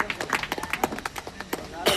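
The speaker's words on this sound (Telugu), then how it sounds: "అందరూ చప్పట్లు కొట్టాలి." Audience at a school event clapping, a brief burst of scattered, uneven hand claps at moderate distance, with a voice faintly present.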